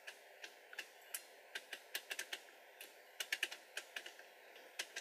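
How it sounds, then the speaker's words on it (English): Metal ratchet joints in the shoulders of a Bandai Soul of Chogokin God Sigma robot figure clicking, a quiet close-up run of sharp, irregular ticks, some single and some in quick clusters, over a faint steady hum. "he's got metal clicky joints inside his shoulders"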